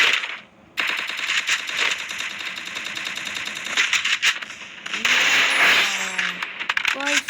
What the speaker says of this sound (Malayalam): ഇതവിടെ വെടിയുടെ ഒച്ച വെക്കുന്നു